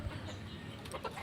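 Chickens on a poultry farm give soft, scattered clucks and chirps that are faint and brief, with no talking.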